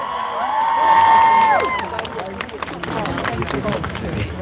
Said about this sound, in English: Give Bisan a big round of applause